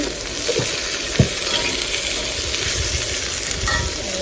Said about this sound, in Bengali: সবজি, বাটা আর আলু। এটাকে হালকা করে ভেজে নিতে হবে।